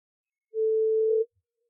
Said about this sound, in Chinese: 小路子，怎么突然给我打电话了？